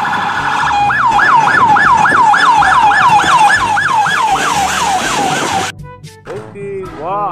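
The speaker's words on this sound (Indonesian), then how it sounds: "Di sini ada mobil ambulans." An ambulance siren wails loudly and close in a steady rapid up-down cycle for several seconds, then cuts off abruptly, leaving brief traffic noise and a short siren chirp.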